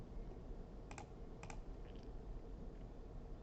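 Two quick pairs of key presses on a computer keyboard, faint against a steady background hiss, with no talking.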